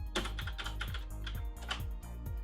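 Steady keystrokes on a MEGA 65 computer keyboard, a quick run of close, crisp clicks with no talking.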